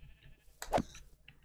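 A small pig squeals once in a video game, a short bleat-like cry near the middle of an otherwise quiet moment, alone without talk.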